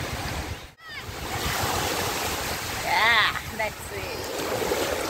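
Strong, aggressive sea waves at Karde beach in Dapoli, driven by steady wind, surge and crash in a continuous loud roar close by, with a brief drop before the surf swells again; someone talks faintly over it.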